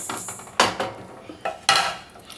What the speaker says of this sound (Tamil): எள்ளு வறுத்துக்கிட்டு இருக்கேங்க